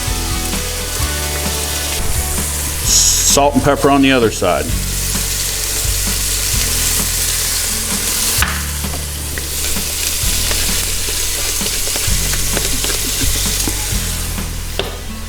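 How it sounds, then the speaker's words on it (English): Wild turkey searing in a hot pan, a loud steady sizzle and crackle running throughout, with a brief scrape of stirring or moving the meat and a voice speaking over it. "we're gonna let that sear for just a minute right there till it browns on one side"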